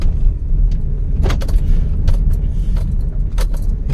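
A car on a first-time drive, a low steady engine rumble close by with light jangling and rattling clicks from inside the cabin.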